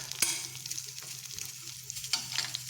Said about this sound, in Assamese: এয়া পায়সত দিবৰ কাৰণে ড্ৰাই ফ্ৰুটছ কেইটামান ঘিউত ভাজি আছো